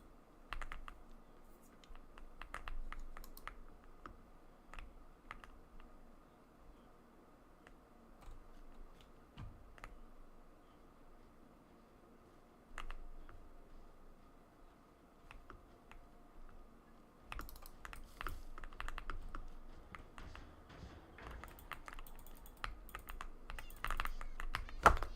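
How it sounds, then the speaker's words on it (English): Computer keyboard typing during a Minecraft survival session: soft, irregular clicks in quick bursts with short pauses, fairly faint and close, with heavier clusters of keystrokes toward the end. "I keep accidentally typing that."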